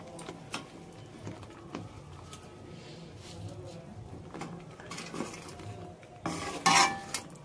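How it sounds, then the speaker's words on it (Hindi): Sugar syrup is stirred in a pan with the gas turned off, giving soft scraping and clinking of a spoon against metal, with a sharper clatter near the end and faint background noise. "अब यहाँ पर मैं गैस को बंद कर लूंगी और थोड़ी देर इसे और चलाऊंगी"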